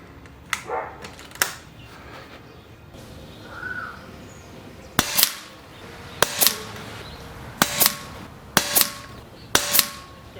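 A Daystate Pulsar .22 air rifle firing JTS 16 grain pellets at about 735 feet per second, several sharp close cracks spaced a second or so apart, a dog barking faintly in the background.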